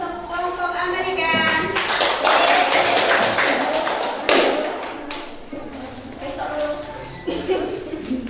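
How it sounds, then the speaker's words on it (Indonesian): Audience applause for a group presenting on America during a class on food and beverage table service, a dense wash of clapping hands lasting several seconds, swelling and then easing off, with voices mixed in. "Untuk kita beri aplaus untuk kelompok Amerika"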